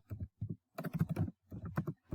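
Quick bursts of keystrokes on a computer keyboard, clustered in short uneven runs of clicks with brief pauses between, close and clear with no talk over them.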